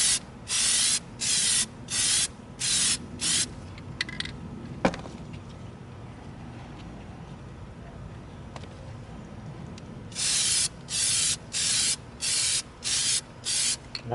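Plasti Dip coating sprays from an aerosol can onto a prop in short hissing bursts, a rhythmic run of about six near the start and another six after a quiet gap, close and loud.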